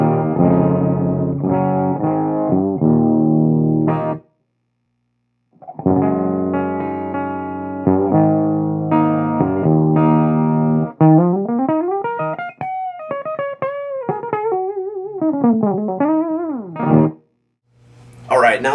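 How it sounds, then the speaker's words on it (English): Electric guitar on its bridge pickup runs through a Highway 83 amp with bass, mid and treble turned all the way down, playing sustained chords and then sliding melodic lines with short pauses between phrases. "I'm going to use just the bridge pickup on the guitar."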